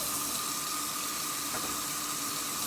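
A bathroom or kitchen faucet left running while a young child washes hands gives a steady, continuous hiss of water that stays even throughout, with no speech.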